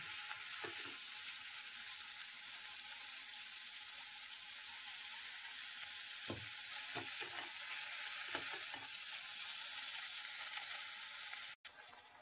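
Jackfruit frying in a pan with oil, a steady sizzle throughout with intermittent scraping stir strokes of a spatula, close and clear.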